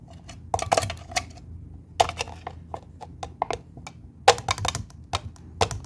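A single egg beaten by hand in a bowl for an egg cake gives quick, irregular clicking taps in bursts, crisp and close, with no voices.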